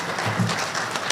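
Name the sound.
audience applauding at school board meeting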